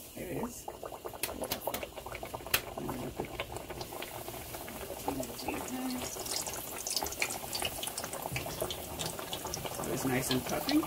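Trinidad fried bakes, flour-dusted dough, sizzle and bubble steadily in hot oil, a dense crackling fry that grows slightly louder toward the end.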